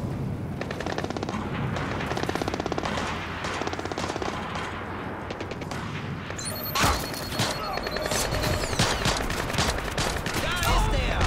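Rapid automatic gunfire in the stealth shooter Splinter Cell Blacklist, dense rattling bursts filling the whole stretch with a sharp louder shot midway, continuous and close.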